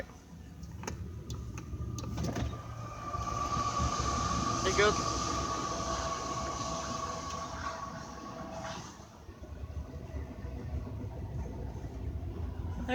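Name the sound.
fast-moving train passing by Walmart parking lot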